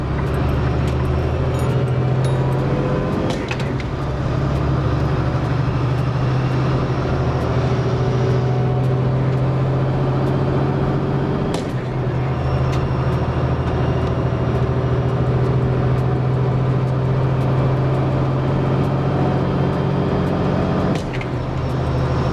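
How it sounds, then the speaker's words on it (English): A car engine labouring under load while accelerating, a continuous heavy drone heard from inside the vehicle, with a few brief rattles and thumps over the steady rumble. "All that horsepower and torque. This thing's still working hard, trying to accelerate."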